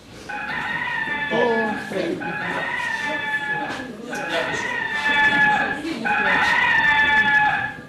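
A rooster crows loudly several times in a row, its long strained calls overlapping, with voices talking underneath.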